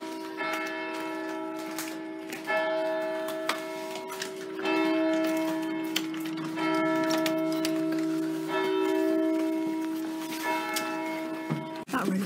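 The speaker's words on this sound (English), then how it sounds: "Those church bells." Church bells ring out in a steady, repeated peal, fairly distant and outdoors, each strike ringing on with long tones over a quiet background.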